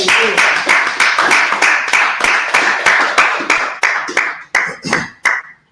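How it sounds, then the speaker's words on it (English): A group claps in unison at a scripture and law class, sharp rhythmic hand claps in a steady beat that loosen and thin out toward the end, loud and close. "Hey, clap it up."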